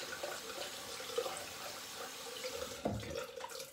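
Cold tap water runs steadily into a sink while shaving gear is rinsed and alum is washed off, a faint continuous trickle with a few soft splashes and clinks.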